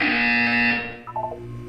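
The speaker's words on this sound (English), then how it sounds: "You will hear a buzzer. When you hear the buzzer, look down at the floor." In the video game Portal 2, a loud, harsh electronic buzzer drones for nearly a second, then trails off into a few fainter, brief tones.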